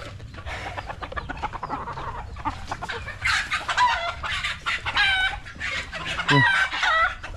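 Chickens cluck repeatedly at close range while a rooster crows a few times, with a steady background murmur.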